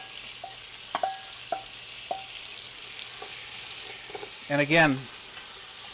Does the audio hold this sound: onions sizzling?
yes